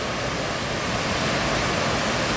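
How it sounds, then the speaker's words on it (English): A waterfall cascades beside a hiking trail, a steady, loud, broadband rush of falling water that holds constant throughout with no voices. "Here's another view of the waterfall. It just cascades so smoothly"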